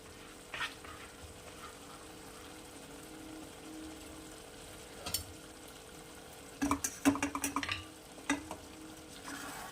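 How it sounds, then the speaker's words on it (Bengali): Kachki fish and potato cooked down into a dry curry, stirred gently in the pan: a faint low simmer, then a short run of soft scrapes and clinks from the spoon near the end. "একটু নাড়িয়ে নেব হালকা হাতে, নাহলে পুরো মাছগুলো আলুগুলো ঘেটে যাবে।"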